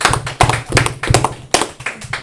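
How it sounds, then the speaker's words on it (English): An audience at a religious Feast of Tabernacles gathering claps together, a close, uneven run of hand claps and taps with strong accented beats. "Let's clap it up for them."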